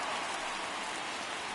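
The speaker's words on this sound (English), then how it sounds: "Rain continues to fall, as it's expected to for the rest of the game." Steady, dense rain hisses down at Candlestick ballpark in a baseball video game, an even wash of falling drops that holds throughout with no talk over it.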